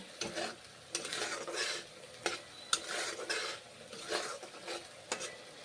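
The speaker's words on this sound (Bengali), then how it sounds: "মশলা কষে নিলাম" Spice paste stir-fried in a pan while cooking rui fish curry with ground cumin, heard as quiet repeated scraping strokes of a spatula over a soft sizzle, close up with no voices.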